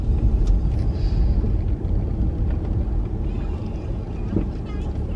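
A car creeps along at about three miles an hour, a low steady engine rumble and road noise heard from inside the cabin, with faint talk now and then.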